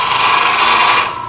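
A wood lathe spins as a tool cuts a taper on a small turned lid for a miniature nesting box, giving a loud, continuous close-up scraping hiss that fades at the end.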